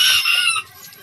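A chicken gives a short, loud burst of squawking clucks close by, then it fades to quiet.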